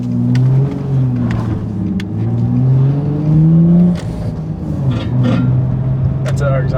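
A car's exhaust drones and rumbles while driving on newly fitted coilovers, a low steady engine note with slight rises in pitch, heard close from inside the cabin under occasional voices.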